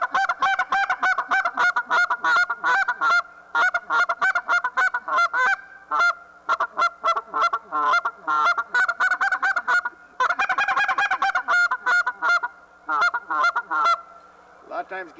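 A goose call blown to imitate geese gives rapid double-cluck honks in fast rhythmic bursts, loud and close, with short pauses between runs.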